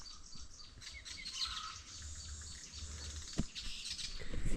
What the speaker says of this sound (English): Hear that, birds?